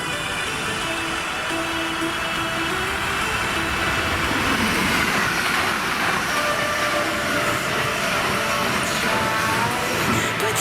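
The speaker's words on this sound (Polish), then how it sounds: "Nasz JBL jest tam, pociąg już tutaj jedzie." A train rumbles past close by with a loud, steady roar and rail clatter, drowning out nearby sounds, while a small portable speaker plays music somewhere in the noise.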